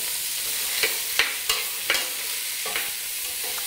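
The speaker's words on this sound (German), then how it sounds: "Erst nehme ich immer die härteren Sachen wie Sellerie und Karotte. Und das rösten wir ein wenig an." Celery and carrot roasting in a pan, a steady sizzle punctuated by a handful of sharp scraping stirs at irregular intervals, close and clear with no talk.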